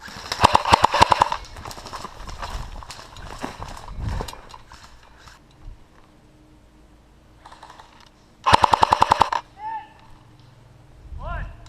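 An airsoft AK rifle, an Echo 1 Rifle Dynamics AK700, fires two rapid bursts of sharp clicking shots, one at the start and one later, with people talking between them outdoors.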